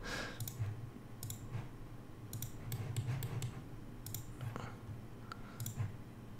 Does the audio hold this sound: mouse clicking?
yes